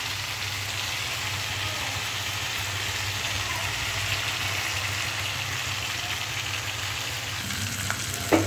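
Meat curry sizzling and frying in a pan, a continuous bright hiss with faint stirring, and a low steady hum underneath, with a brief clatter near the end.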